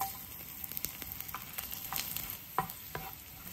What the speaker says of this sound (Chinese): 倒入蒜片爆香